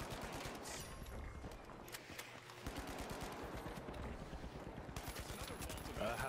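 Steady rapid gunfire in the video game The Finals, a dense run of shots at a quick even rhythm, fairly quiet in the mix and continuing without pause.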